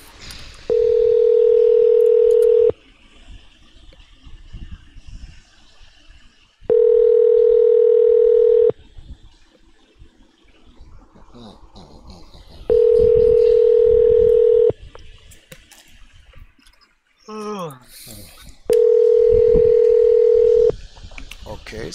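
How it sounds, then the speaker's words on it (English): While a phone call connects, a ringing tone repeats four times in long, evenly spaced bursts separated by quieter gaps holding faint background sounds. "calling Alex's phone."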